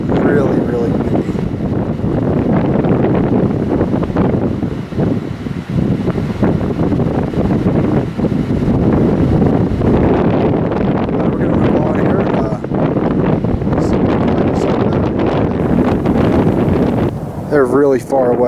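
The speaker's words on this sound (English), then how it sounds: "Really, really windy." Strong, steady wind at about 9,000 to 10,000 feet in the Colorado mountains buffets the microphone throughout, a constant low roar that rises and falls in gusts.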